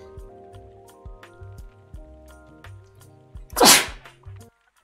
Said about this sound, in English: I'm gonna sneeze, by the way.